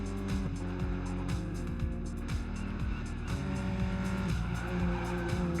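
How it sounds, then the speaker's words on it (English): A car drifts with tyres skidding and squealing over a loud, steady engine note, the pitch rising and falling through several swings, up close and continuous with no talk. "No, it wasn't too bad of a drift."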